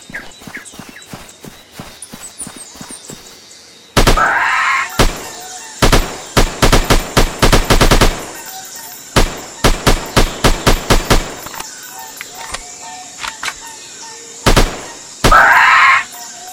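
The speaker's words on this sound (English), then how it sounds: "Shot." Gunfire from the Sniper 3D mobile game on a dinosaur-hunting mission, loud sharp shots in rapid clusters and single reports, with softer rhythmic thuds in between and short bursts of louder noise.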